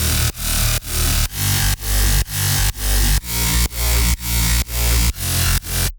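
Three layered electro house bass synths pump in a steady rhythm, a thick, buzzing low-end tone that ducks sharply on each beat, about eleven regular swells across the stretch, loud and dense, with no voices.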